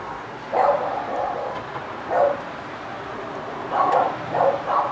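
Dogs bark in short bursts at a moderate distance, a few separate yaps around the middle and then two more close together near the end.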